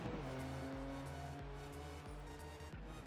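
Steady low drone of Nissan's turbocharged VG30ET V6 in an IMSA prototype race car in iRacing, with rhythmic dips as gears shift, loud and continuous without talk.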